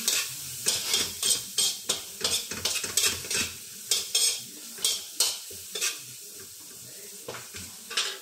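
Onion and garlic sautéing in a pan under repeated scraping stirs, about a dozen rhythmic strokes over a soft sizzle, close and fairly loud.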